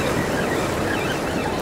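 Waves break over a jetty on the New York City shoreline, a steady, close, broadband rush of churning surf with wind noise mixed in and no voices.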